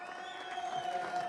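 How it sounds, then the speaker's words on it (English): A crowd cheers and applauds downstairs for the class-winning driver at a GT motor race prize reception in Estoril, a steady, fairly faint wash of distant cheering and clapping throughout. "gets a great reception from the crowd downstairs"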